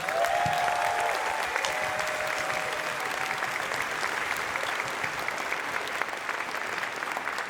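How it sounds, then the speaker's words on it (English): Dense audience applause fills the closing ceremony of Anthrocon 2023, a steady, loud wash of many hands clapping at once from start to finish, with a few faint tonal whines over it. "So everyone, give a round of applause."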